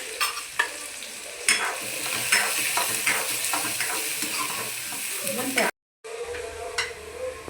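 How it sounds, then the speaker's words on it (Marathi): Two finely chopped onions frying and being stirred in hot oil for a bombil potato rassa, a steady close sizzle with scraping stir strokes, broken by a brief silent gap near the end. "तेल गरम झालं आहे, आता आपण त्याच्यामध्ये बारीक चिरलेले 2 कांदे टाकायचे।"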